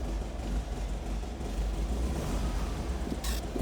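Engine of an Intermeccanica 356 D Cabriolet Roadster replica with Weber carburetors, running at a steady idle with a continuous low rumble and a brief higher-pitched burst near the end.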